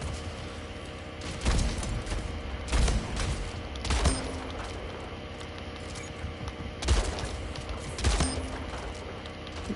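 Loud shotgun blasts in the shooter game Splitgate, about five sharp booming shots spaced irregularly over several seconds, with faint mechanical game sounds between them.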